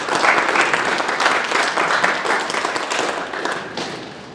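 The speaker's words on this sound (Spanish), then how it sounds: "te pido un fuerte aplauso para recibirla" Conference audience applauding to welcome a speaker, dense, close clapping that is loudest at first and gradually thins out.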